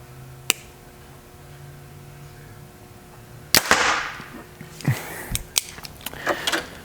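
Sharp release snaps of a compound bow, a Mathews VXR 28 or Hoyt AXIUS ALPHA, firing at targets outdoors: one lone crack early, then a louder shot with a short hissing tail, followed by several smaller knocks and clicks.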